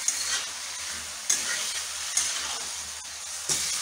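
Pangas fish heads and tails sautéed with spices in a pan, a steady hiss of frying with soft stirring scrapes and a few sharp clicks of a spoon against the pan, close and fairly quiet.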